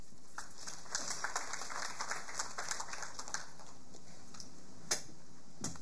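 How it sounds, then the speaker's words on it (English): Conference attendees at a skills summit give a modest round of applause, scattered hand claps pattering steadily at moderate loudness for a few seconds in a large hall. "I think the applause should be louder"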